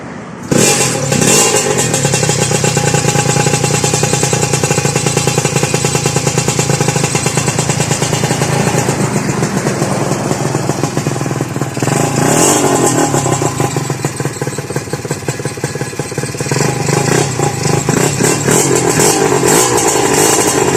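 A Kawasaki KR150 motorcycle engine roars close by after starting, revving repeatedly with rising and falling pitch over a steady rough idle, loud throughout.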